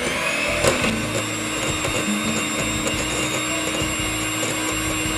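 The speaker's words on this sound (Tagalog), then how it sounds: "Ilagay natin ang asukal na pula habang patuloy na pagbati sa katamtamang bilis." Electric mixer beating eggs, vanilla and brown sugar for biscotti at medium speed, a steady motor whir running continuously and evenly, close and moderately loud, with no talk.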